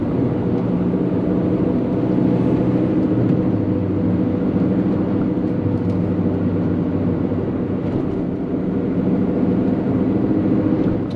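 A supercharged 2003 Mini Cooper S John Cooper Works with a 6-speed gearbox drones steadily from its engine throughout, a loud, even hum with little change in level and no talking.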